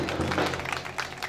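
Guests at a Turkish wedding in Kahramanmaraş give a short burst of clapping for the bride's and groom's parents, steady and close over a low electrical hum.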